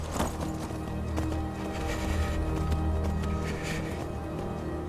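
Steady clip-clop of horse hooves in a continuous trotting rhythm in the video game Skyrim, with a brief whinny near the start over a dense ambient background.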